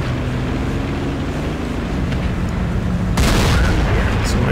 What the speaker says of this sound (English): So my first shot goes into the side of a T-54